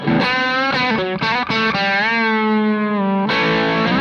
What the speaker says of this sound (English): you can get a really cool whammy bar sound with that